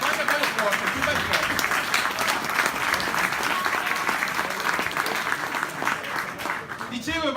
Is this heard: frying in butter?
no